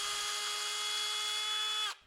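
A Milwaukee M12 FUEL installation drill runs at a steady high-pitched whine for nearly two seconds, loud and close, then cuts off abruptly.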